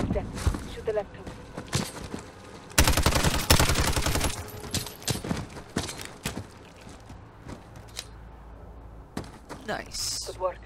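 Gunfire from the video game Call of Duty: Modern Warfare, with bursts of automatic fire and single shots, one long loud burst in the middle, plus footsteps and thuds, while game voices talk over the action.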